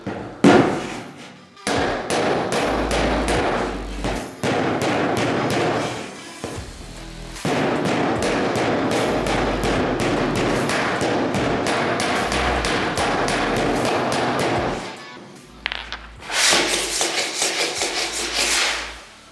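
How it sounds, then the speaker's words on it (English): A steel dolly strikes the underside of a dented panel van body panel, driving it against a flat dolly; sharp metallic knocks repeat rapidly in close, loud bursts with brief pauses between runs and no talking. "I'm going to use that like a hammer on the underside to knock this up against the flat dolly."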